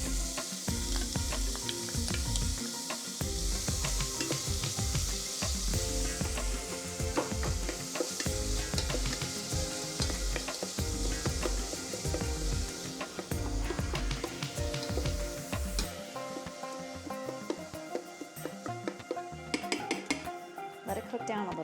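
Onions sizzle in olive oil inside an Instant Pot, a dense close frying hiss with regular stirring knocks, the sizzle thinning toward the end, with a voice talking over it.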